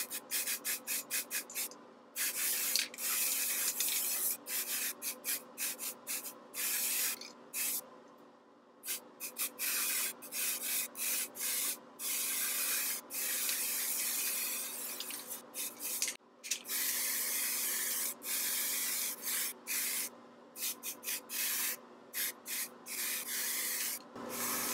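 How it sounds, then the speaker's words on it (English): Aerosol spray paint laying black over gray hair, a steady close hiss running almost continuously with brief stops and restarts between bursts. "I gotta start from over here, get up and under. It's gonna be a lot of overspray."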